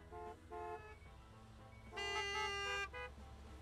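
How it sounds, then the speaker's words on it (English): Car horns honk in a gas station simulator game during a storm: two short toots, then a long loud blare from another horn, followed by one more brief beep, with engine rumble underneath. "Got so many people honking!"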